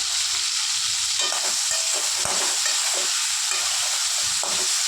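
Tomatoes fry with a steady, close sizzle in a pan, broken by repeated scraping stirs of a spoon against the metal throughout.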